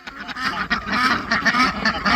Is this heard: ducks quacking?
yes